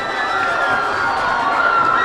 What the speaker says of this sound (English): And the crowd, I think, speaks for itself, Greg.